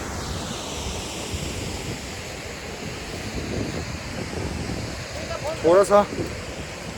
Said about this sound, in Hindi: इतना सुंदर वाटरफॉल।